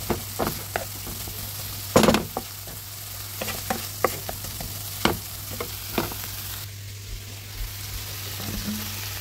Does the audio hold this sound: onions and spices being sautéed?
yes